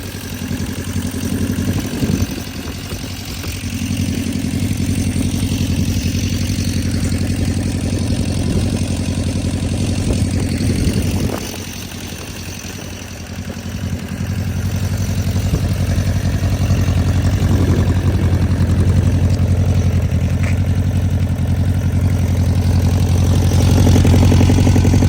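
Rebuilt 1973 Honda CB350 Four motorcycle engine idling steadily for a long stretch, a close, even four-cylinder burble with a brief dip in level partway through before settling back.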